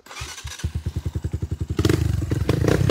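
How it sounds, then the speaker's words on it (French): A motorcycle engine cranks with a rapid series of rhythmic thumps, then catches and settles into a loud, close, steady idle. "Vas-y, allume ta moto"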